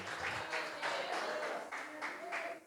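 Church congregation clapping in rhythmic bursts, fairly faint and reverberant, with a voice speaking over the claps.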